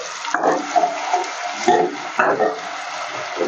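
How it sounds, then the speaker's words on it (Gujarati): A splash of water added to onions cooking with salt in a pan for pav bhaji, giving a hissing, bubbling sizzle with scraping stirs, close and fairly loud. "આપણે મીઠું નાખશું એટલે સહેજ પાણી મેળવીને અંદર ચોટે નહીં"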